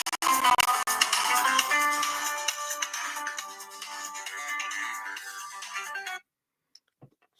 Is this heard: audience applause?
no